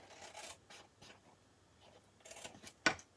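Scissors cutting scored and folded paper in a papercraft project, soft close scratchy snips in short bursts, ending with a sharp louder snip.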